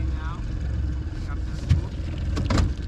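A small aluminium tinny's outboard motor is heard as a steady low engine drone while the boat is driven onto a shore, with scraping knocks toward the end and a voice speaking over it.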